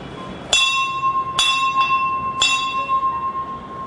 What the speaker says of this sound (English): We have a natural calling bell.